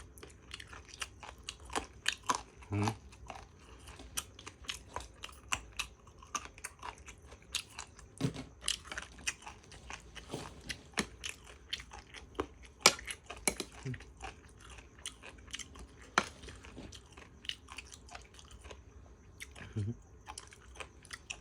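Crunchy pork rib salad being chewed close to the microphone: a dense run of crisp, irregular crunches and bites, soft but distinct, continuing throughout with faint background murmur.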